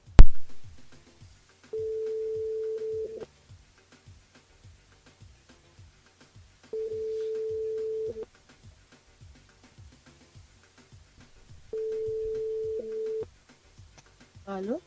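Ringback tone while calling a mobile phone: three steady, evenly spaced tone bursts of about a second and a half each, separated by several seconds of near silence, with a faint click at the start.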